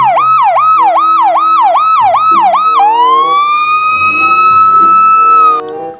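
A toy police patrol car siren blares loud and close, first a rapid repeating whoop-whoop pattern, then a long steady high tone that abruptly stops.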